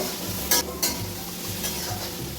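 Ground spices, including coriander powder, are stirred in a hot frying pan, giving a steady close sizzle with two sharp scraping strokes of the spoon early on and a softer one later.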